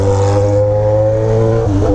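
A modified Yamaha XJ6 motorcycle with an Atalla 304 stainless steel exhaust and Fuel Tech tuning drones loudly and steadily up close, its engine note dipping and wavering briefly near the end.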